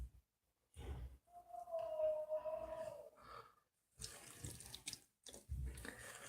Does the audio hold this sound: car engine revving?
no